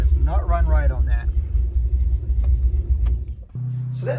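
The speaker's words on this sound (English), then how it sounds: "There it is, cam fault. Does not run right on that." A 2003 Mustang Cobra modular engine fitted with an MS3Pro plug-and-play ECU, idling rough with a cam sensor fault, giving a steady low rumble close by, with a voice talking over the first second.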